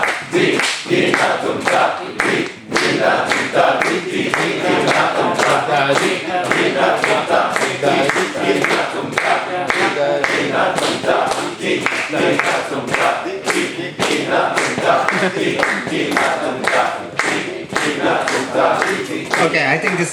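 A group claps in rhythm along with a spoken phrase, sharp regular hand claps driving steadily under loud group chanting throughout.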